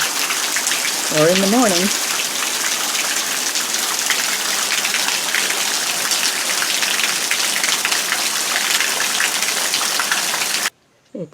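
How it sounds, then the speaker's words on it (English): Heavy, continuous gushing of rainwater pouring off a roof, loud and close, with a brief voice early on before the sound cuts off abruptly near the end. "We have our own waterfall coming off the roof."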